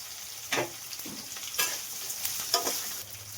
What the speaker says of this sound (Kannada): ಹೀರೆಕಾಯಿ ಫ್ರೈ ಮಾಡ್ಕೊತೀನಿ.